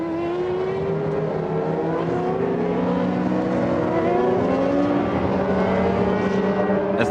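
Formula 1 cars from 1994 on the formation lap, several engines whining and rising in pitch as they pass, overlapping and continuous with no voices.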